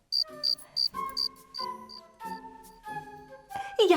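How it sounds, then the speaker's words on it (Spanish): Cricket chirps sound in a forest at night, several regular high-pitched pulses in a row over a children's music bed with chimes, ending in a brighter rising swish. "Y hace cric, cric, cric,"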